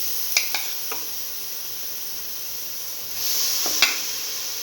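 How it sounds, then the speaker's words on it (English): Beef pieces going into a hot pan for an okra stew, giving a steady sizzling hiss throughout that swells louder near the end, with a few soft clinks of utensils. "Now put in the beef pieces."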